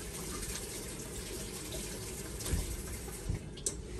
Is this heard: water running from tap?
yes